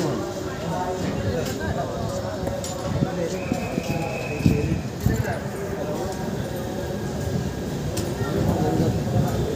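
The Uttarbanga Express train rolls along after leaving Bardhaman station, with a continuous low rumble and rhythmic wheel clatter heard from onboard while someone talks over it.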